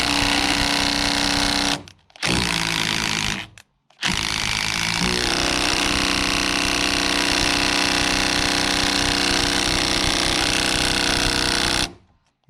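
Power screwdriver driving a screw into a wooden roof-frame timber, a loud close whirring buzz in long bursts with two short pauses, then a steady run before stopping.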